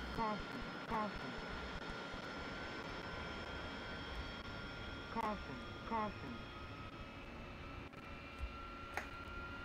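A DCS World AV-8B Harrier jet engine holds a steady idle, a faint, even whine with sustained tones running beneath someone talking throughout.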